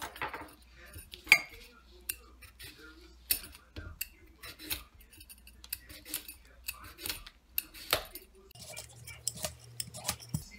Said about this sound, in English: today I'm just gonna simply cut these things up, throw them together in a bowl with some salt, pepper, and olive oil